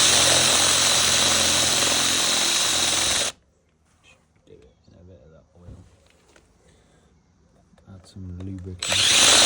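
A power drill whines loudly for a few seconds while drilling a go-kart part, then stops, leaving quiet clicks and handling sounds, before the drill starts up again at the end.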